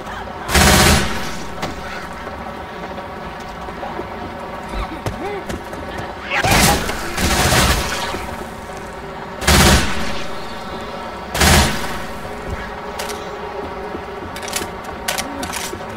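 Gunfire in the zombie shooter video game Left 4 Dead 2 comes in four loud bursts of rapid shots separated by quieter gaps, with game ambience and faint voices underneath.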